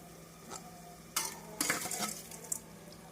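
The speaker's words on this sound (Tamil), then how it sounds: "நம் அரிசி சேர்த்து மசாலாவுடன் ஒரு நிமிடம் நன்றாக வதக்க வேண்டும்" Soaked biryani rice being stirred and fried with mint masala in a pan gives soft scraping and light sizzling with a few clinks of a spoon against metal. The sounds come in short, close bursts with no talking.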